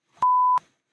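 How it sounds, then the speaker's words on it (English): A single censor beep sound effect, a clean steady electronic tone lasting about a third of a second, sharply starting and stopping with brief clicks at each end, alone and loud. "And I got to put a beep in."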